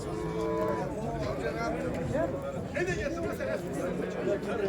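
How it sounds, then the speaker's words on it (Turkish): Cows at a livestock market low and moo repeatedly against steady background chatter and crowd murmur, with people talking nearby throughout. "burada 4 tane ineğimiz var"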